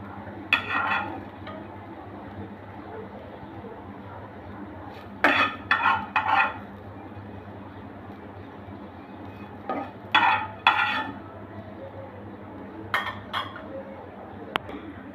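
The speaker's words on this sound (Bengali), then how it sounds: "এখন আমি একটা বাটিতে করলাগুলো নামিয়ে নিব।" Utensil clinks and scrapes as fried bitter gourds are moved from a pan into a bowl, coming in several short bursts spread between quiet pauses over a low steady background hum.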